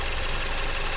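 Mazda CX-7 engine at idle after a Dimexide engine flush, a loud, close, steady mechanical hum with a faint high whine riding on top and no talking.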